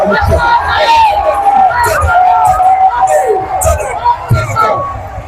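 Loud crowd of thousands of Ghanaian fans gathered in Kumasi cheering during a Ghana vs England match, a close, dense babble of shouting voices with rising and falling bursts and individual yells throughout.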